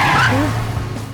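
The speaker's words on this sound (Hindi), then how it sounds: "और अचानक आपने एक जोरदार ब्रेक मारा" A motorbike braking hard with a short tire squeal, a brief close skid that rises and fades within about a second.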